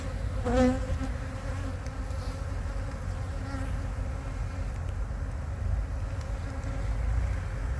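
Honeybees buzz continuously nearby, a low steady hum with individual bees droning closer now and then.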